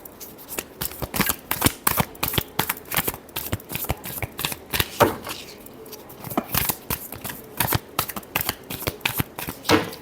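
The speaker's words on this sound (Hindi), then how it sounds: "Last shuffle." Tarot cards being shuffled by hand during a reading, a rapid run of crisp riffling flutters and taps repeating closely throughout, near and clear with no voices.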